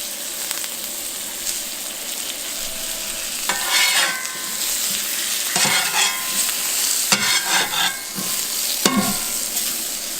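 Fennel frying with a knob of butter in a hot pan, a steady sizzle close up with intermittent stirring scrapes and clatters.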